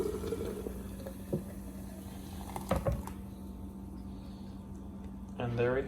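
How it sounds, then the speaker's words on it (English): Coco Rizo Cooler drink poured into a glass, a soft liquid splash and trickle under a steady low hum, brief splashy bursts near the middle and a louder gurgling fill toward the end. "You just go ahead and pour it into a glass."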